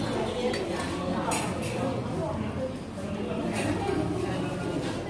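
Plates and cutlery clinking at a Vietnamese restaurant table, a continuous busy clatter of dishes and utensils with occasional bright chinks, close by, under steady conversation.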